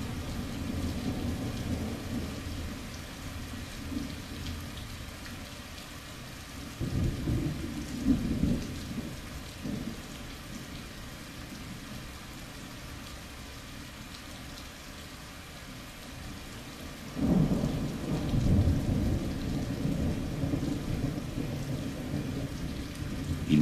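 Steady rain pours outdoors over a nesting site while deep rolls of thunder swell twice, each a long rumbling surge that fades back into the constant hiss of rainfall; no voices.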